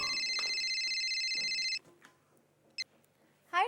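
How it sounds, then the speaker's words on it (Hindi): A telephone rings steadily with an electronic double-tone for nearly two seconds, then stops; brief clicks and a short chirp follow in a quiet room. "हाँ, निशा को फोन करती हूँ।"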